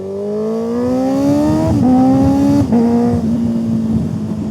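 A close motorcycle engine winds up through the gears, pitch rising, dipping at each shift, then rising again, loud and steady with no speech.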